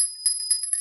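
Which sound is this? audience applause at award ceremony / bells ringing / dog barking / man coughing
bells ringing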